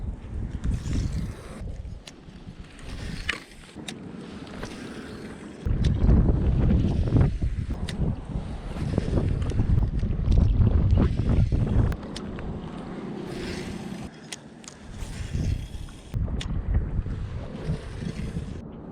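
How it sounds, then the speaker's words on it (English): Strong gusts buffet the microphone on a lake during bass fishing from a boat, roaring and rumbling in long uneven surges with water lapping underneath, loud and close throughout. "we've been dealing with some pretty obnoxious wind basically since I started fishing"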